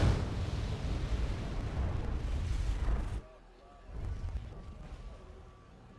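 Bombs striking a front line in the video game Wargame AirLand Battle, a loud rumbling barrage of explosions for about three seconds, then a quieter second boom as the noise dies down.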